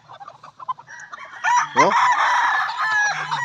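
Gamefowl roosters at the Pandacaqui Gold Game Farm, brown red and black birds, cluck in short bursts before one crows loudly and close, a long raspy call, with a brief voice in between.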